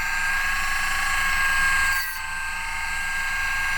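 A Dremel rotary tool spinning a cutting disc through a plastic post, a steady high-pitched whine held close and loud for nearly four seconds with a brief dip near the middle.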